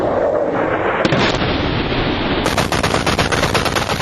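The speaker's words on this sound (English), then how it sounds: "This, one of 42 firefights since May, was an unprecedented daytime attack." Bursts of automatic gunfire crackle loud and close during a daytime firefight in Afghanistan, with rapid overlapping shots and heavier booming reports filling the whole stretch.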